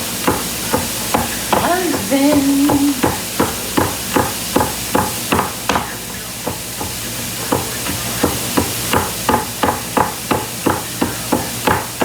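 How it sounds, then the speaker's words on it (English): A knife chops garlic on a cutting board in a home kitchen, a steady run of sharp, evenly spaced knocks that continues throughout, close and loud. "Garlic little chopped"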